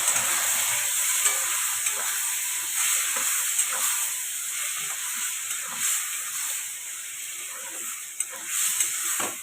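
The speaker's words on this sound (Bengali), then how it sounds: "দিয়ে দিলাম অল্প একটু জিরের গুঁড়ো, দিয়ে ভালো করে আমি এটাকে কষাতে থাকবো।" A spice paste with cumin powder, cooked for a spicy bitter gourd dish, frying in a pan with an even hissing sizzle and light intermittent stirring scrapes, steady and close with no voices.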